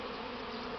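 A swarm of honey bees on a spring cleansing flight in front of their hive on a warm +20 day makes a continuous close, droning hum, brief and steady.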